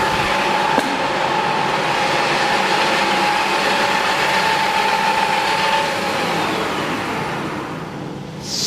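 A wood lathe spins steadily with a pen blank on it while lower-grit sandpaper works the blank. A constant, fairly loud whirring drone holds a steady tone and carries through to the end, where it eases slightly.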